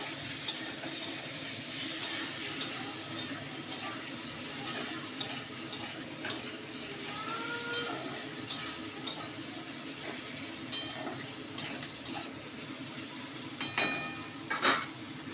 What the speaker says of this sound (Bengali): টমেটোগুলো দিয়ে দেবো এবার আমি, দিয়ে নাড়াচাড়া করবো।